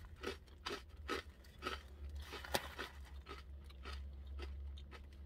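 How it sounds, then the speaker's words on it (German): Crunchy pretzel pieces on an Elephant Pretzel Gourmet Burger snack being bitten and chewed close to the mic, a steady run of sharp crisp crunches over a low background hum, with no talking. "es knuspert gut"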